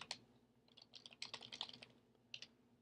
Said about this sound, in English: if I start typing again,